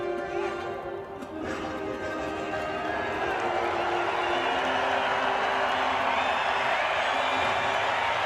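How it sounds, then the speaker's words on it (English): A stadium crowd in San Francisco roars for a ukulele player from Maui during the national anthem. The cheer swells from a murmur into a loud, sustained roar with whoops, and a voice carries over the start. "listen to the crowd when he popped"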